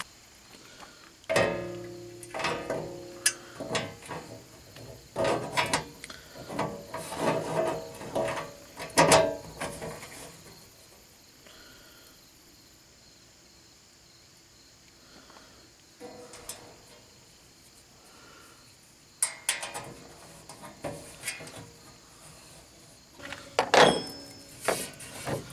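Cold air intake parts for a Ram pickup are being bolted together by hand, giving scattered clicks, clinks and rattles of metal and plastic parts in bursts, close and fairly quiet, with no talk.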